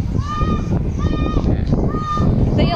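Geese on a farm give repeated nasal honking calls in three or four bursts, clearly audible over steady wind rumble and faint background voices.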